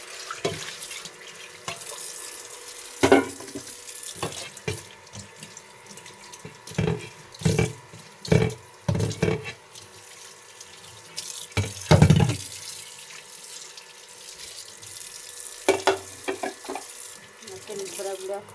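Tap water runs in bursts as vegetables are rinsed by hand in a home kitchen before cooking beef with sweet pumpkin, with splashes, gushes and drips coming close and fairly loud between quieter pauses.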